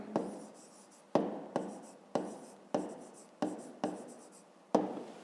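Pen strokes writing out the solution to a fifth-grade math exercise: about six firm, rhythmic scratching strokes, each with a sharp start that trails off, heard close up with no talking.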